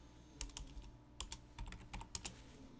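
Keys clatter on a computer keyboard as a command is typed into AutoCAD, a few quick bursts of close, crisp clicks with short pauses between them and no voices.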